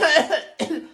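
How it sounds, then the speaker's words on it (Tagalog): Two quick, close coughs in a row, the first slightly longer, then silence. "May ubo kasi ako"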